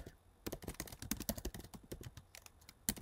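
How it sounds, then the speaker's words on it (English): Fingers type on a computer keyboard, a quick irregular patter of close key clicks, faint and steady, with no voice over it. "So I'm going to type in meditation script"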